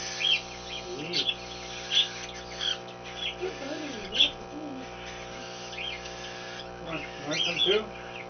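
Cockatiels give soft, repeated chirps and cooing calls while being hand fed, close by and fairly quiet, with a low steady hum underneath.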